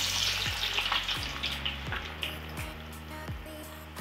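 Onions sizzling and frying in hot oil for a South Indian biryani, a steady loud crackling hiss with repeated stirring scrapes at regular intervals, no voices.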